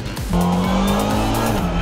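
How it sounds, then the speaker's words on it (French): Race cars in the Lamera Cup at Dijon surge away hard at the start, engines climbing through the gears with rising pitch and a brief tyre squeal, loud and close. "les voitures placées sur les 4 premières lignes démarrent en trombe"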